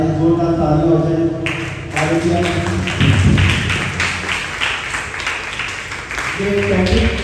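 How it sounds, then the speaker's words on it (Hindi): A voice speaks briefly at a church sermon, then a burst of clapping and applause from the congregation breaks out, dense and sustained, with talking resurfacing near the end. "जोरदार ताली हो जाए"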